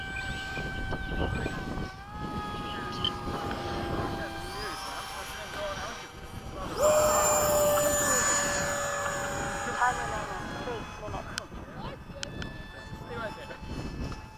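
An F/A-18 jet makes a low pass at Bayside, its engine roar swelling loud for several seconds before fading, over a steady background rumble.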